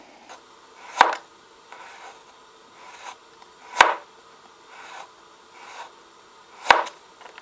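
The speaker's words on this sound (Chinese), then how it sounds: "萝卜切个夹刀片" A knife cutting a trimmed radish into hinged double slices on a board, three sharp, close chops spaced a few seconds apart, with softer scraping and board knocks between them and no voices.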